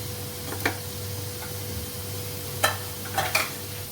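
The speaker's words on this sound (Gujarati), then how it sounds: "તેલ થોડું ગરમ થાય પછી 1 ચમચી જેટલું જીરું થોડુંક લાલ થાય પછી તેમાં આપણે હિંગ નાખીશું" Cumin seeds and asafoetida sizzling in hot oil in a pan for Gujarati sev tameta curry, a soft steady frying hiss broken by a few sharp crackles and pops, with no speech.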